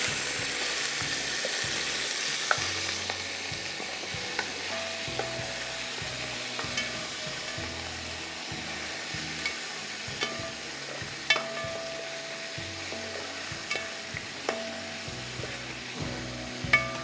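Chicken pieces fry in a pot, giving off a steady soft sizzle with light scraping and clinks of a stirring spoon throughout, fairly quiet and close, with no voices.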